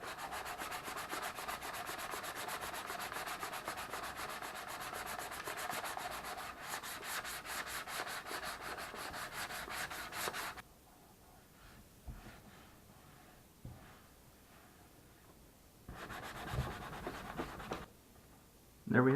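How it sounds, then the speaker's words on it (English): Sanding a Sand Scorcher model car body by hand, a close continuous raspy scrubbing for about ten seconds, then quieter intermittent rubs and scratches with pauses. "So she's been sanded nice and smooth"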